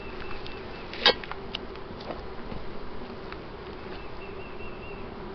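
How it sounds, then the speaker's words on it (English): Guard honey bees buzz close around an open hive, a continuous droning hum with individual bees passing near, and one sharp knock partway through. "Alright, guard bees coming after me."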